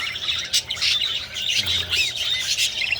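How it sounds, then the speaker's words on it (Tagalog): A pair of African lovebirds squawk and chirp close by, a rapid run of shrill, overlapping calls filling the whole stretch. "ito yung pairing natin na isa pang African lovebirds"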